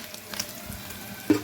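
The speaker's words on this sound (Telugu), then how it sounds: "కొంచెం ఆయిల్ పెట్టుకున్నా, ఆయిల్లో పన్నీర్ వేసేసుకున్నాం." Paneer pieces frying in a little oil with salt sprinkled over, a brief close sizzle with faint stirring scrapes and a sharper crackle at the end.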